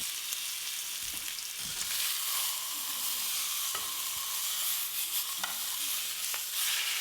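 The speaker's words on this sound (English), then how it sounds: "So I'm just getting some ghee really hot and then searing it on all sides." Pork loin sears in very hot ghee with a loud, continuous hiss and crackle close by, broken by occasional short pops and scrapes as the meat is turned.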